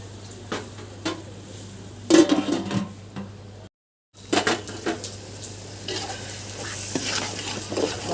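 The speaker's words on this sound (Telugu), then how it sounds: "బాగా వేగిపోయినాయండి టమాటాలు బాగా వేగిపోయినాయండి." Tomatoes frying in a pan for a home-cooked biryani and khurma meal, a steady soft sizzle broken by stirring scrapes and clinks of a utensil against the pan, with a brief silent gap partway through.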